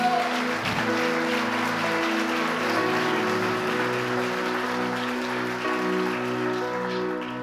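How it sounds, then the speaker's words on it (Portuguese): A church congregation applauding during a sermon, steady clapping blended with sustained keyboard or organ chords that ring underneath throughout, continuous and moderately loud. "Aplauda o Senhor Jesus por isso."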